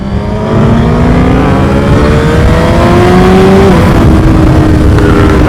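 Superbike accelerating hard through the gears, its engine loud and very close with a rising, sweeping whine that climbs, drops at a shift and climbs again, and no speech.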